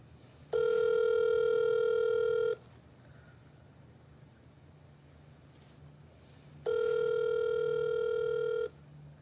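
Two long steady ringback tones, each about two seconds, sound during an outgoing telephone call, separated by a quiet pause over faint background hiss.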